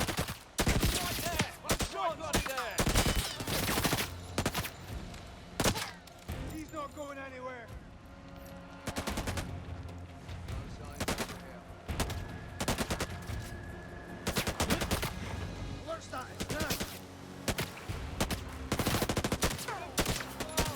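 Rapid gunfire bursts in the spy action game 007: First Light, sharp close shots in clusters and short volleys repeating across the stretch, with a voice talking throughout.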